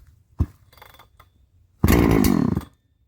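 A NeoTec NH8120 120cc gas chainsaw, a Husqvarna 3120 clone, starts on a single pull: a sharp pull-cord yank and brief rattle, then the engine catches and roars loudly up close for under a second before cutting off.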